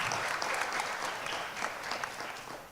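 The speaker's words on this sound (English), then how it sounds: "please give a warm round of applause to all of our speakers for their valuable insight" Sustained applause from a forum audience in a large hall, dense steady clapping throughout that tapers slightly near the end, with no talk over it.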